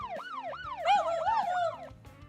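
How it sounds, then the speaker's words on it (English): A police siren from a city scene in a video game wails in repeated rising and falling sweeps, growing louder as a second siren tone overlaps mid-clip, then fading slightly. "Siren draws closer."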